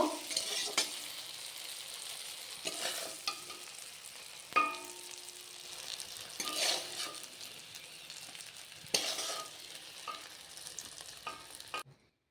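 Shrimp and flat beans fry in a pan with a continuous sizzle, broken by several louder bursts as the pieces are stirred and turned.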